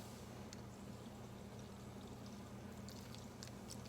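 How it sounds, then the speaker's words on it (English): Mountain Dew soda poured over homemade apple dumplings in a baking dish, a steady soft liquid trickle with a low background hum, faint and continuous throughout. "we're just gonna pour this directly over our apple dumplings"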